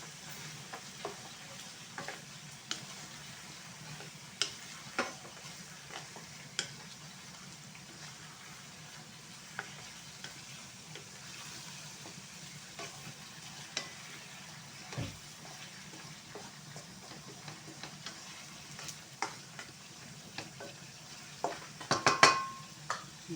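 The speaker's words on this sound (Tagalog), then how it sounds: "Haluin." Chicken kaldereta gets stirred in a pan, a quiet scraping and soft sizzle with scattered small clinks of a utensil against the metal, growing busier toward the end, no voices.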